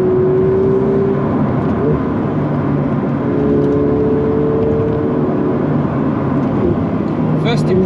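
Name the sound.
Ferrari sports car engine revving while driving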